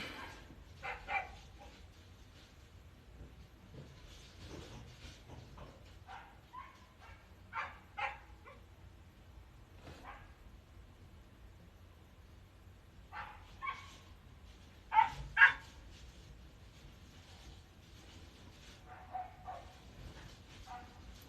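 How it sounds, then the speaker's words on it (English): Puppies bark at a distance in scattered short bursts and yips, sometimes two or three in quick succession, faint against a quiet indoor background with a louder cluster near the middle. "the puppies are barking at her."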